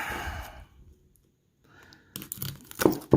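A plastic holder is pulled and torn away from a silver coin, giving crinkling, ripping bursts near the end after a soft exhale and a quiet pause.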